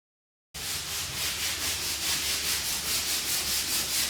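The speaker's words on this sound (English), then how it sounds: "Just gotta get this quarter round sanded" Wooden quarter round molding being sanded by hand, a steady rhythmic rubbing scrape that starts abruptly after a brief silence and repeats in even strokes, close and moderately loud with no talk.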